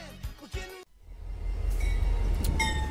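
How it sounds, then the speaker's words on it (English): In a video game heist, a stolen train loaded with goods rumbles off after a brief bit of talk, with a swelling, continuous rolling roar and faint metallic squeals. "you load your goods into the train that you stole and watch it drive off with the goods"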